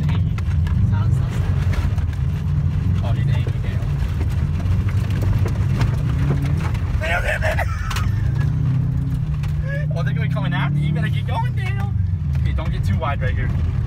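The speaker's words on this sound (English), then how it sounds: "I basically just did a couple donuts in front of them." A Subaru WRX spins donuts, its engine droning low and shifting in pitch throughout, close and steady, while someone talks over it.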